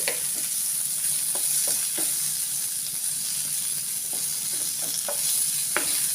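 Butter prawns with lemon juice stirred in a frying pan, a continuous steady sizzle and hiss with scattered light scrapes and clicks of the spatula against the pan, no voices.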